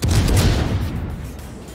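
Deep booming rumble of cruiser naval gunfire in a warship game, a loud low blast at the start that rolls off and fades over the short stretch, with no voices.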